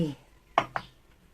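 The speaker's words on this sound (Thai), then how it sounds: "ตำทุกอย่างให้ละเอียดเลยค่ะ" Lemongrass, garlic, coriander root and pepper pounded in a mortar for a Thai spice paste: two sharp, close thuds follow a brief voice, then quiet.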